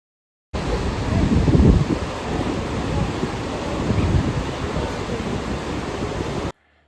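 Shivanasamudra waterfall in monsoon, a broad, loud, continuous roar of heavy water with wind buffeting the microphone, swelling slightly in the middle, no voices.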